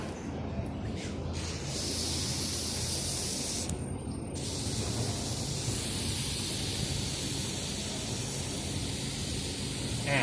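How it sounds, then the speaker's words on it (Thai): Rust penetrant is sprayed from an aerosol can onto a scooter's rear brake cable in a few hissing bursts, the first two short, then one long steady spray, close and fairly loud. "ให้ท่านใช้สเปรย์ครับ สเปรย์กัดสนิมเนี่ยแหละยี่ห้ออะไรก็ได้ฉีดนำไปก่อน"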